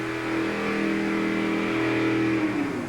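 A 1958 Ford truck at a monster truck pull in Tucson, its engine held at a loud, steady high rev with strong harmonic drone, then starting to shift and drop near the end; no voices over it.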